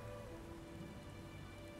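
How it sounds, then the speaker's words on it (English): Steady rain patters continuously in the video game Beyond: Two Souls, a soft even hiss of drops with no voices over it. "All I heard was rain, Jody!"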